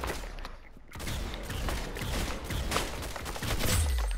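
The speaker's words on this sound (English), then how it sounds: "Very good shooting." Rapid clustered gunfire from the video game Roblox, a dense crackling volley of shots that keeps up throughout at moderate level, with no talk over it.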